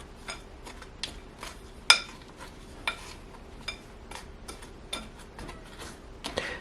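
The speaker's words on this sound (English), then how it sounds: "Let's mix this up." Candy corn muffin batter, dry mix and candy corns mixed together in a bowl, gives soft, irregular clicks and scrapes of a utensil against the bowl, fairly quiet and close, with no talking.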